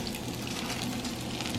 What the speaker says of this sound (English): we got salmon patties cooking right there